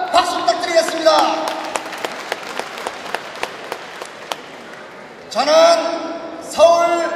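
Applause breaks out at a political party convention in Seoul, a dense burst of clapping that fades to scattered claps, then gives way to someone speaking into a microphone.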